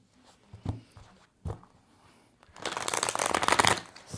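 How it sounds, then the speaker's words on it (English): Tarot and oracle card decks, including an Afro Goddess Tarot deck, being handled: two soft taps, then a close, steady riffling shuffle for about a second and a half, with no talk. "And then I will pull you a card from the Afro Goddess Oracle deck."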